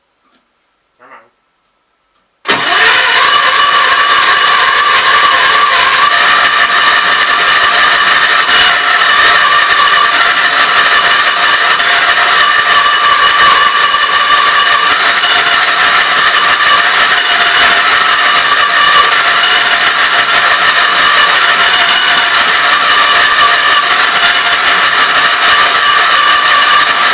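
Kohler K241 engine running, a loud, steady, rapid ticking mechanical chatter that starts abruptly after a brief quiet moment and continues unbroken at close range.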